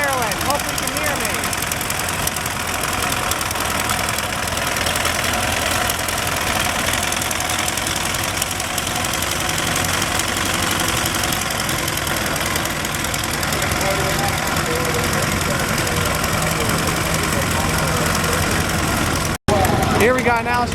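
An old Fordson Model F tractor engine idles steadily with a rough, knocking rhythm, a constant mechanical chug close by at a gas and steam engine show, and a voice talking over it.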